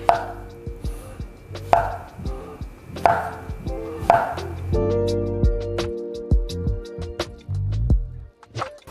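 A knife cutting bananas into slices on a board for banana pudding, with a steady series of close, sharp chops set against a tonal background hum.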